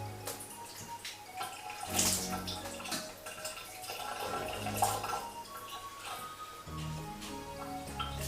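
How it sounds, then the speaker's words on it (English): Whey pours and splashes through a colander into a sink in uneven bursts, with a few clatters and drips between pours, while making Parmesan cheese. "we'll take it over to the sink and put it through the colander"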